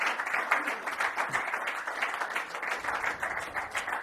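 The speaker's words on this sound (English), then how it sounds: "Please give a warm round of applause." An audience at a jazz school entrepreneurship talk gives a warm round of applause. The clapping is dense and steady for a few seconds, fairly close, with no voices over it.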